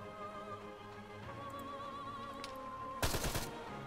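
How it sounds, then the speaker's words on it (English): A machine gun burst in Arma 3, a short rapid rattle of shots near the end, heard at moderate distance over a steady droning hum of engine and electronic tones, with no voices. "the machine gun's firing back"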